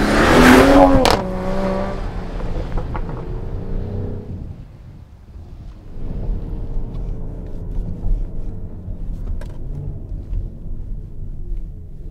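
A 2021 Mercedes-AMG GLE 53 Coupe accelerates on a track circuit, its engine note starting loud and rising with a quick rev, then settling into a steady rumbling drone that swells again as the SUV keeps pulling.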